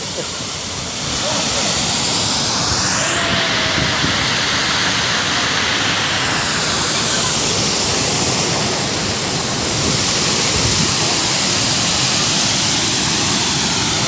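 The Çiseli waterfall in Ordu, Turkey, gives a loud, steady roar of rushing, crashing water that fills the whole scene without pause.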